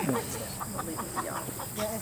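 Heritage-breed chickens cluck faintly in short, scattered calls over a muffled, noisy background.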